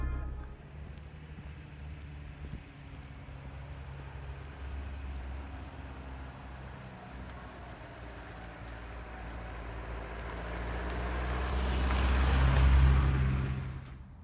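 A car drives along a road on a winter trip to a lake, heard as a steady low engine and tyre rumble from inside the vehicle that swells louder near the end.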